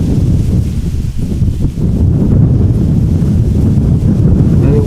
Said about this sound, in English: the wind constantly battling me over control of the camera